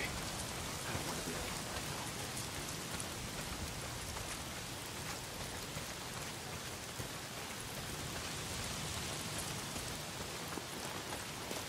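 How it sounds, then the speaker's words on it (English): Heavy rain pouring down in the Days Gone video game, a dense, even hiss of drops hitting surfaces that holds steady and fairly soft throughout with no voices. "Well, not if it's pissing down rain."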